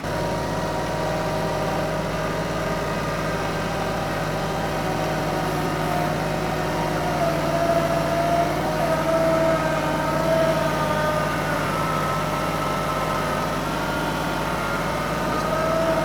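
A small 25-horsepower tractor engine runs steadily at a low, even drone in low range, close by and continuous, with no voices.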